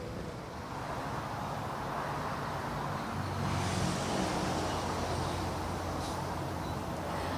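Steady road traffic rolls past the Sungai Buloh overpass rest stop in Malaysia, a continuous broadband wash of car and vehicle noise with wind buffeting the microphone and no clear individual passes.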